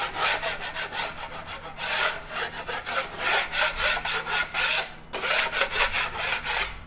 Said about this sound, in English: I'm gonna knife off some of these high spots from these tailings real quick